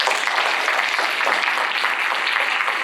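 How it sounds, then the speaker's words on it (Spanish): Sustained applause from an audience at a mathematics lecture event, an even wash of many hands clapping at steady loudness throughout, with no voices over it. "Le damos un fuerte aplauso"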